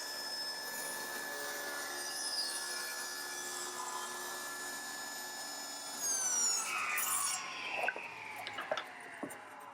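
A hand saw cuts a wooden tenon for a rocking horse repair, a steady rasping stroke with ringing tones for several seconds, followed by a louder burst of sawing and a few clunks as the cut finishes.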